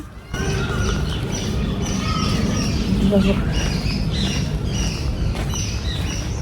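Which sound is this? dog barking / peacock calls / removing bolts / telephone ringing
peacock calls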